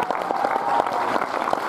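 Audience applause at the premiere of the French film La Revanche des Crevettes Pailletées, a dense, steady burst of clapping from a full room with no voices over it.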